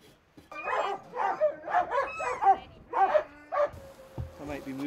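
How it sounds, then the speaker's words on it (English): Husky sled dogs at a racing event bark and yip in a rapid run of repeated barks, some whining, with a brief pause and then more barking, at moderate distance. "you will be able to watch the dogs being handled"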